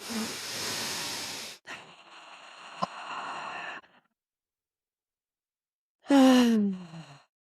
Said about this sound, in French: on va inspirer par le nez, expirer par la bouche